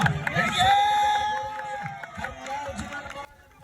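A crowd at an all-Kerala tug of war match claps and cheers, a loud outdoor burst that fades over a few seconds while a voice talks over it.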